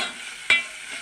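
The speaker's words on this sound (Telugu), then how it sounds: "ఇలాంటి ఉల్లిపాయ ముక్కలు వేగుతున్నాయి." Onion pieces frying in hot oil in a pan give a steady, close sizzle, with one short, sharp crackle partway through.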